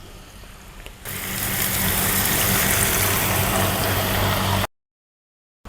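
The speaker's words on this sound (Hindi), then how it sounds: "थोड़ा सा पानी डालेंगे" Water poured into a pan of green pumpkin curry with turmeric and amchur, a loud rushing gush lasting a few seconds that stops abruptly into silence, no talk.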